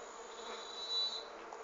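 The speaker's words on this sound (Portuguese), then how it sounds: "Como está aqui, já mostra que já existe bastante abelhas se aproximando." Melipona scutellaris stingless bees, the Uruçu, buzz around a feeder, a close, continuous droning hum that swells briefly near the middle.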